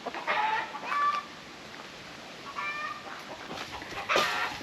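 Chickens cluck and squawk in short bursts while being fed on a tropical Queensland property, faint and somewhat distant over a quiet background.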